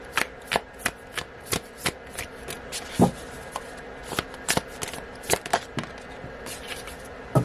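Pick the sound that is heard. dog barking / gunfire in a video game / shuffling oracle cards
shuffling oracle cards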